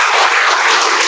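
Audience applause at a talk on jeevamruta use for paddy farming, a dense, steady wash of clapping hands at close range, continuous and even for its whole short length with no voices over it.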